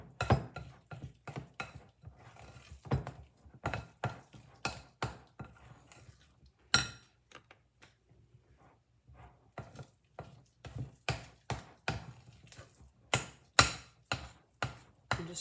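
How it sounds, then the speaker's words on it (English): A spoon stirs thick fudge mixture with powdered sugar in a bowl, giving repeated irregular scraping knocks against the bowl, close by and fairly quiet, with short pauses between strokes. "I'm just gonna keep stirring it"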